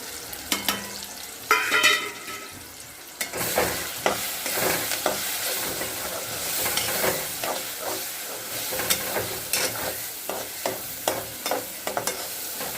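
Onion, tomato, ginger-garlic paste and masala are stirred in a pan for prawn sukka, a soft sizzle under repeated clinks and scrapes of the spoon against the pan, close and fairly quiet.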